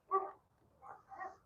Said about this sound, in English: Dogs are barking now.